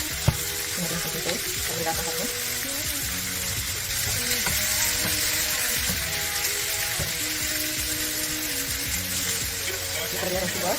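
Pork spare ribs fry in a pan with a steady, dense sizzle that holds at an even level throughout, with faint voices in the background.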